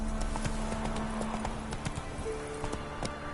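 Hooves of Roach, a horse in a PS4 video game, clip-clop in a steady trot, with a brief whinny and other game sounds layered underneath.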